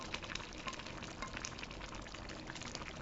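Stuffed sauerkraut cabbage rolls for Hungarian töltött káposzta cooking in a pot on the stove, a faint continuous sizzle and bubbling, steady and close, without speech.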